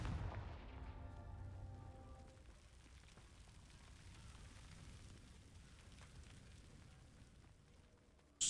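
The Confringo fire spell in Hogwarts Legacy detonates in a single booming explosion up front, its rumble and crackle fading into a long, low tail of ambient game noise.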